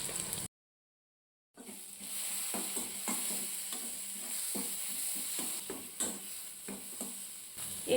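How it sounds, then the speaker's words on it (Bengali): Onion and garlic sautéing in a pan for a Bengali prawn curry as turmeric and Kashmiri chili powder go in, giving a steady soft sizzle with scraping stirs after a brief silent gap, no voices. "পেঁয়াজ রসুনটা একটু হালকা করে কষিয়ে নিয়েছি, এরপর দিয়ে দেবো হলুদ গুঁড়ো, কাশ্মীরি লঙ্কার গুঁড়ো"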